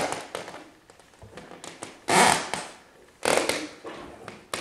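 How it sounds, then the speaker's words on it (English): A wood floor squeaks across a seam in front of a fireplace as someone walks on it: two loud, harsh creaking bursts stand out among quieter taps and footfalls, close by. "And you hear how much squeaking you have here across this joint."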